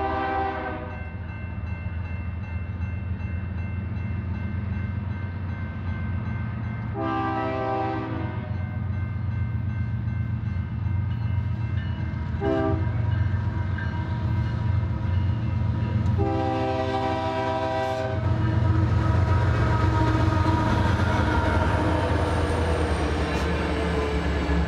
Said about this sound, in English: capture northbound crude oil empties, where a Gevo is at the head